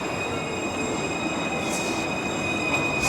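A tramway runs on rails in Montpellier, giving a loud, steady rolling rumble with a high wheel squeal held throughout and no one talking.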